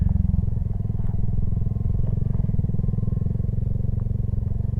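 Motorcycle engine pulling hard under throttle while accelerating through the gears, a dense, rapid firing rumble heard up close and loud for the whole stretch, with no talking.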